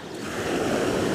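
Sea waves wash onto a beach in a steady, broad rushing surge, loud and close with some wind noise and no voices.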